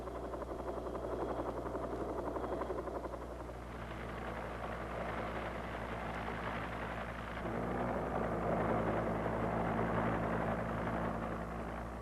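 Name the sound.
Cobra AH-1G armed helicopter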